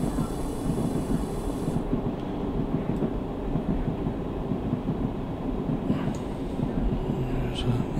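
A big train rolls past in a diesel railcar railway simulator game, a steady, dense rumble and rail roar that holds loud and unbroken throughout.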